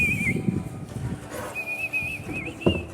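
Someone whistles a wavering, sustained tune close by, pausing briefly midway before resuming, with faint movement and bumps underneath.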